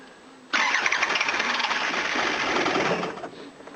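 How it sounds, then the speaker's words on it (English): An old diesel engine with a freshly repaired starter cranks briefly with hand throttle applied, then catches and runs at a loud, steady clatter for a few seconds before easing down. "Well, since I haven't been able to crank it, I don't know if it starts properly."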